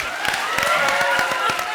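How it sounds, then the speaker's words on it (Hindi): Audience applause at a comedy show, a short burst of scattered clapping from a crowd, moderately loud with irregular hand claps. "तो जोरदार तालियां बजाओ दिल के लिए।"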